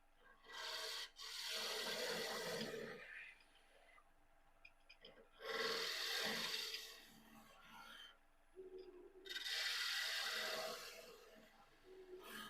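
Wood being turned on a lathe at about 1200 rpm with the bevel rubbing, giving three long rasping, scraping passes of the tool against the spinning blank with quieter gaps between them, close and fairly loud.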